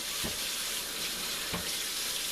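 Warm water runs steadily from a kitchen tap while bread dough is being prepared, a continuous close splashing rush with two brief heavier bumps.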